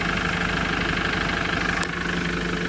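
A Yanmar 4LV250 marine diesel engine idles steadily on a boat after maintenance, a continuous even rumble with a constant tone and no talking.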